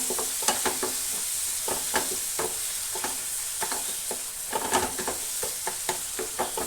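Pieces of fried chicken being stirred into a roast mixture in a pan, with repeated scraping and clacking strokes of the spoon over a soft, constant sizzle, close and moderately quiet.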